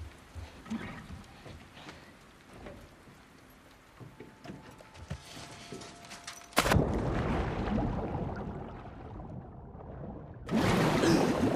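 Boat engine in The Last of Us Part II, a steady low motor drone under water noise, jumping louder and rougher partway through and again near the end.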